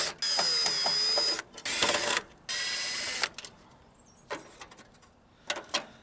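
Phillips head screws are backed out of the headlight trim bezel on an old Jeep YJ, giving long, continuous whirring bursts of a nearby power driver broken by short pauses and a few faint scattered clicks.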